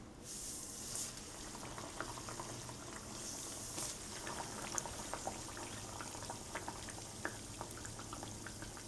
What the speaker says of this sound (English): It's time for me to fry the donuts